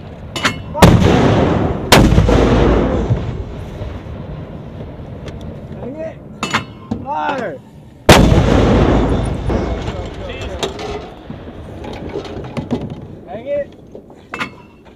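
A 120mm mortar fired by soldiers, with two loud, sharp blasts a few seconds apart, each followed by a long rumbling decay. Shouted commands come between the shots.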